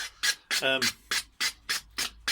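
Rhythmic rasping strokes of sandpaper on a cue tip, about seven quick rubs in a steady back-and-forth pattern, close up, with a brief voiced sound midway.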